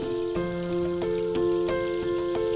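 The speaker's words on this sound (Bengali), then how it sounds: "আকাশটার কি যে ধরেছে, বৃষ্টি ছাড়ার নামগন্ধই যে নেই" Steady cartoon rain falls on a rainy day, a constant patter with scattered drop taps over a sustained tonal background.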